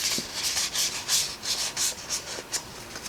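Scored cardstock handled and creased for a handmade card, soft close papery rustling and rubbing in short irregular bursts.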